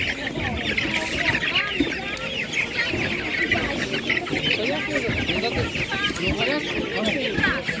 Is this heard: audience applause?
no